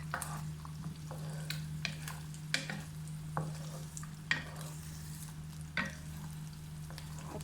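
Beaten eggs, three of them, cook in a hot oiled pan while being stirred and broken into pieces. Soft steady sizzling sits under a low hum, with repeated scraping taps of a spatula against the pan and no talk.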